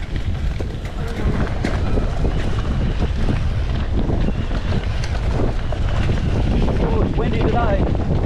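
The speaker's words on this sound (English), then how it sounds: "It's windy today." Strong wind buffets the microphone during a downhill mountain bike ride at Old Tambo, a loud continuous rumble with gusts throughout.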